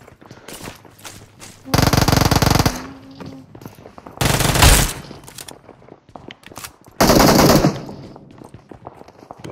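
Three loud, sustained bursts of rapid automatic gunfire, each lasting about a second, separated by quieter gaps with scattered clicks and rustling.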